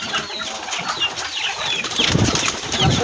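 Flyer pigeons come down to land with bursts of flapping wings, soft fluttering and rustling that grow louder and closer toward the end.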